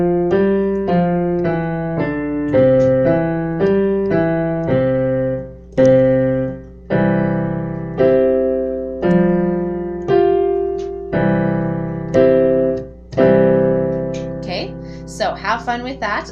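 Piano played with both hands, left-hand chords and a right-hand scale, with evenly spaced sustained notes stepping along, then fuller chords struck together and a quick run of notes near the end.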